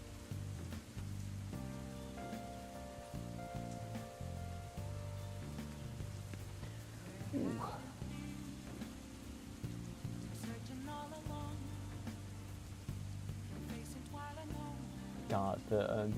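Soft ambient rain from a video game, a steady quiet patter under a gentle melodic music bed, with occasional faint clicks and rustles.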